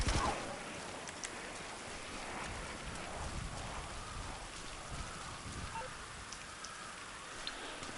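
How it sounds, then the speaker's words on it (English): Rain falls in the video game GTA Online, a steady, dense patter with faint wind noise underneath and a few brief sharper drops, moderately quiet and without speech. "I think because it's raining, as soon as I got here"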